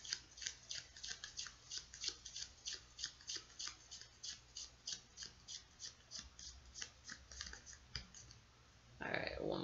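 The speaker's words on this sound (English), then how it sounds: "I think we're going to shuffle this little deck" Tarot cards are riffled and shuffled in a steady rhythmic patter of soft, crisp flicks, close by and quiet, with a brief rustle at the end.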